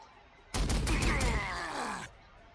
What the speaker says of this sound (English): I do have the bolters here still, so drop some shots